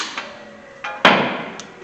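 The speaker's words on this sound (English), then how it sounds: "I grab my hammer and pop the end." A hammer strikes a part during a brake and rotor job on a 2007 Honda Accord, giving a few sharp metallic knocks, one louder hit near the middle, close by with no talking.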